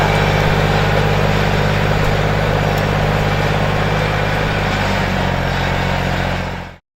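A TEK mechanical cassava harvester pulled by a tractor on a cassava farm drones with a steady, loud, low engine rumble that continues evenly and cuts off abruptly at the end.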